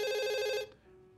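A telephone rings with a bright, steady electronic trill for about half a second and then cuts off abruptly, followed by a faint low hum. No one speaks.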